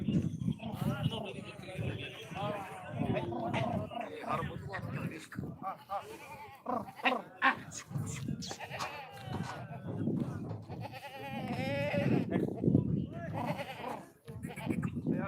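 Goats bleat repeatedly, near and far, amid a busy crowd of people talking in the background at a weekly goat market in Dhanaula, Punjab.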